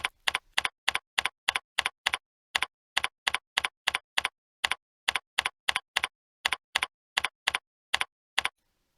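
Steady computer keyboard typing while entering shop-floor routing notes, about two dozen crisp, evenly spaced keystrokes in a fast rhythm, close and clear with silence between strokes and no voices.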